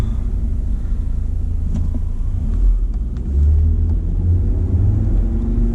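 A car on Yokohama Geolandar A/T G015 tires accelerates normally, giving a steady low engine and road rumble that swells slightly partway through, heard from inside with no talk.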